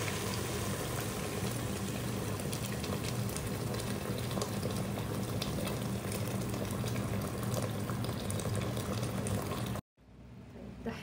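Hot water pours in a steady, gushing stream into a pressure cooker holding Samarkand-style rice. The pour continues for about ten seconds, then stops abruptly, leaving quiet room tone. No one speaks.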